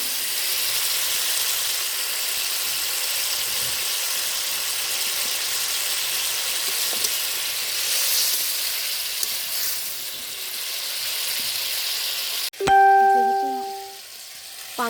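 Water poured into a hot pan of frying pangas fish sets off a loud, steady, broadband sizzle and hiss that holds for several seconds, then cuts off abruptly into a brief ringing tone.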